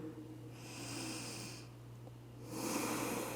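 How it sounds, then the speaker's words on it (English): Slow, deep breathing during a yoga backbend session, with two long airy breaths heard close up and nothing else around them. "Deep breathing."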